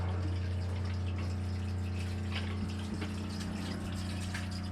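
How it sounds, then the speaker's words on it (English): Water drains out of a sailboat's water tank with a steady pump hum and a continuous gush, constant and close throughout. "here's our water tank. We're emptying it now"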